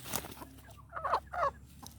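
Chickens clucking in a few short, faint bursts against a quiet background.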